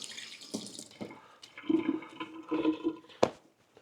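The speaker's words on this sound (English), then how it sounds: "just wash these hands" Hands being washed under a running kitchen tap while cooking, with uneven splashing and gushing water, a few louder splashes and a sharp clack near the end, quiet and close.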